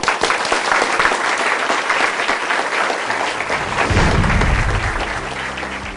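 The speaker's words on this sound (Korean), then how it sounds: "큰 박수로 맞아주십시오." An audience at a lecture for university students gives loud, steady applause to welcome a company vice chairman to the stage, a dense crowd of clapping that holds for several seconds before a low rumble enters near the end.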